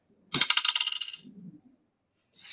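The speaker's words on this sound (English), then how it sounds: "All right, roll that die." A die rolled during an online youth meeting game, clattering across a surface in a quick second-long burst of rapid clicks and rattles, then a softer settling tumble before a brief louder noise at the end. No talking.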